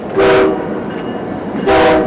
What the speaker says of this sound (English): The town where the trains never stop running